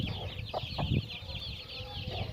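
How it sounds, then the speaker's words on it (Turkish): Hens cluck softly close by in short bursts, over a steady high background hiss. "Tavuklar eşeleniyorlar."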